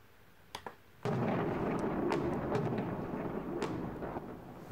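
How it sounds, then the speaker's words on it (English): A sudden loud boom from a music video bursts in after a couple of small pops, then rolls on as a sustained rumbling roar with scattered sharp cracks, alone without talk. "Okay, explosion."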